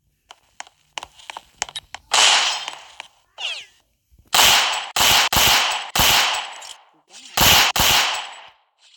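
A gun firing in the game Roblox, first several short scattered shots, then loud bursts of rapid automatic fire separated by brief pauses, close and clear.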